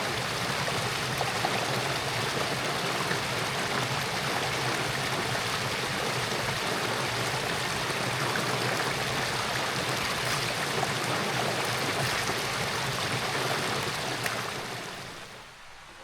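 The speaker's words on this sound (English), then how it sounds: "you can probably see down here where the wee waterfall is" A small waterfall on a stream outdoors on a summer solstice camping trip, a steady, loud rushing and splashing flow that fills the scene and fades slightly at the end, with no voices.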